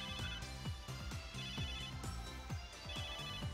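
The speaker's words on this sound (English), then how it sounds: "Cell phone." A cell phone rings in the Megadimension Neptunia VII video game, a steady repeating electronic ringtone with a quick rhythmic pattern of tones, continuous and clear with no talking.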